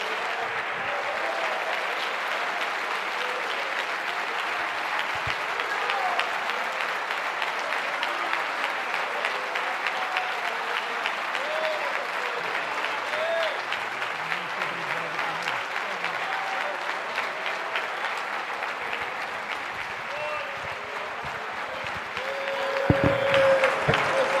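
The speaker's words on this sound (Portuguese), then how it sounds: "Vamos aplaudir ao Senhor." A church congregation claps to the Lord in steady, sustained applause, a dense even roar of many hands that runs on for over twenty seconds, with faint voices underneath.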